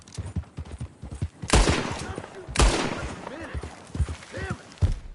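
Gunshots in Red Dead Redemption 2 during a livestock round-up, two loud sharp cracks with echoing tails about a second apart and a fainter shot later, set among hoofbeats and shouted voices.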